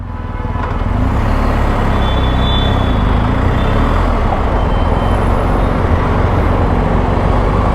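A BMW R 1250 GS Adventure motorcycle with a nearly full 31-litre tank and top case rides along, its engine drone and road and wind rumble building quickly then holding loud and steady.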